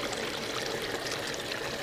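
Water rushes steadily through a gold-prospecting sluice box outdoors, a continuous broadband splashing flow, close and even, with no voices.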